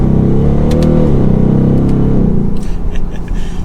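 A 2024 Ford Mustang GT Premium with a V8 pulls away, its loud, close engine holding a low droning tone that rises and then settles into a rougher rumble near the end.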